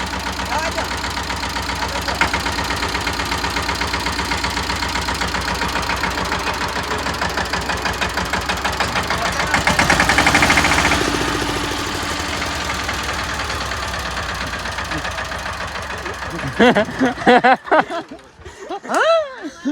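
A tractor engine runs while reversing, a steady close chugging rumble that swells briefly midway, then breaks into uneven, throbbing bursts near the end.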